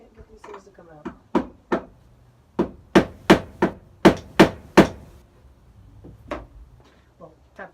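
Hammer tapping a bolt extractor on a 1963 Chevy II drag car project, about a dozen sharp metallic taps in a quick, uneven series, loud and close, with some quiet talking just before them.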